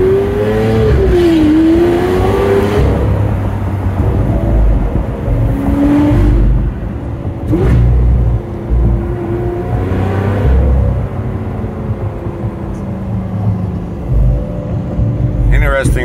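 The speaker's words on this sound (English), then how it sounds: "Lamborghini Aventador, all savaged out." Lamborghini Aventador engine revving during a drive, loud and close with rising and falling pitch sweeps and a deep rumble, broken by brief dips and bursts as people talk over it.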